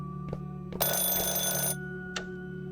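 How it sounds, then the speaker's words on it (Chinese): An electronic telephone rings once in a video game, a loud, bright burst lasting about a second over a steady background hum, with a few short clicks before and after. "电话"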